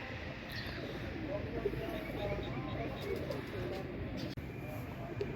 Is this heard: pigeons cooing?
yes